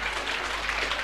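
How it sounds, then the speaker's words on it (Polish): Audience clapping during a lecture on science and religion, a soft, continuous patter of many hands heard from a distance with no voices over it. "This clapping is very unrighteous."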